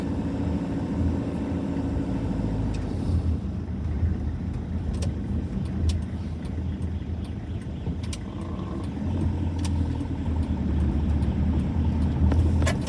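A car driving along the seafront promenade in Blackpool: a steady engine and road hum from inside the vehicle, even and moderately loud, with no talking.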